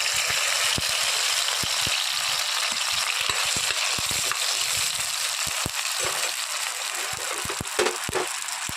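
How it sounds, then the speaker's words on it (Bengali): Bay leaves drop into hot oil for khichuri, producing a dense, steady sizzle close by with scattered sharp crackles and pops throughout. "তেল গরম হয়ে গেছে, এখন আমি এখানে তেজপাতা দিয়ে দেবো"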